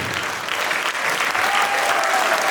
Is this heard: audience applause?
yes